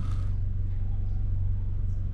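Steady low engine rumble from a modified Audi A3 with a dual-clutch gearbox, heard from inside the car as a continuous drone without distinct revs.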